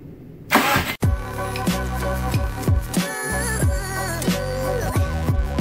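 A Subaru WRX with a swapped JDM EJ205 engine cranks and catches after a brief silence, then idles roughly through a series of repeated short revs, each settling back down, all close up.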